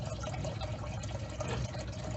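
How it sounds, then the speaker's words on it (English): Steady, broadband rushing of water running through a pipe while a leak is traced, a constant muffled flow with no breaks. "I'm running water through it."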